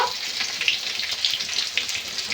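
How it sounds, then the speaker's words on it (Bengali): Silver carp curry with taro and potatoes sautéing in a pan gives off a steady, close sizzle with faint crackles and pops, alone and fairly loud. "দিয়ে আবার বেশ ভালো করে কষে নেব।"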